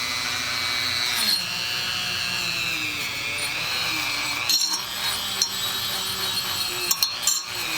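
A Dremel rotary tool set to its low speed whines steadily while cleaning a Stanley scraper plane, with a constant high-pitched grinding hum and a few brief scraping bursts toward the end.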